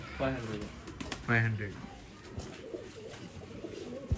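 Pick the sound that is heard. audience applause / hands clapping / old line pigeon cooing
old line pigeon cooing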